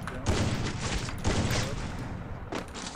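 Gunfire in the Free Fire video game comes in rapid bursts, three distinct volleys with short gaps between them. The shots are loud and close.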